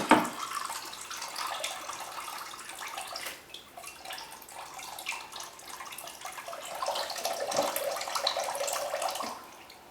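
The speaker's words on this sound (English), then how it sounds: "So just let the water run out." Coconut water running out of a freshly cracked coconut into a bowl, a continuous close trickle and splash that swells toward the end, with no one speaking.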